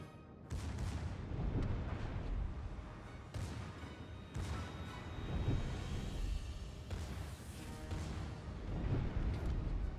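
A Japanese battleship's naval guns fire shell salvos in World of Warships, heavy booming blasts with long rumbling tails, several shots spread across the stretch, no speech.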